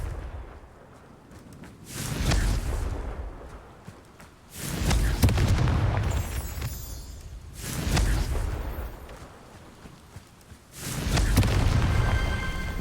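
Fiery spell blasts from Hogwarts Legacy boom in a steady rhythm, four heavy, rumbling explosions each swelling and fading over a couple of seconds, close and loud with quieter gaps between them and no speech.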